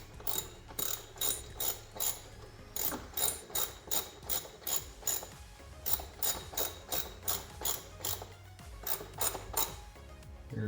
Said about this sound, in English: Going in with my ratchet.